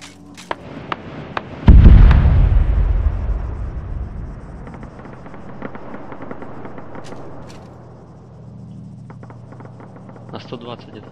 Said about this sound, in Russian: опять бомба